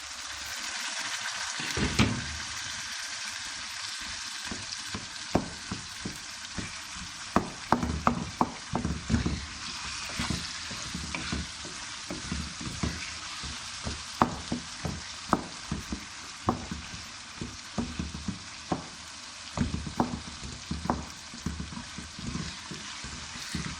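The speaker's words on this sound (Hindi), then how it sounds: "टमाटर भी हमारे गल चुके हैं, थोड़ी देर फ्राई कर देंगे।" Softened tomatoes frying in a pan for a bean curry give a steady sizzle, broken by repeated sharp clinks and scrapes of stirring, close and continuous with no talk.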